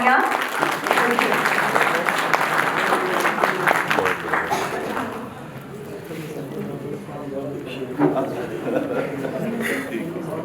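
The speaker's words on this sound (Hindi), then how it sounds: "उसके लिए जोरदार तालियां।" An audience at a school hostel cultural function bursts into loud, sustained clapping that gradually thins out, while a speaker talks over it.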